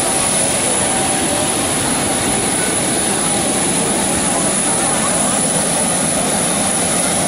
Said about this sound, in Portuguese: É um avião da Gol.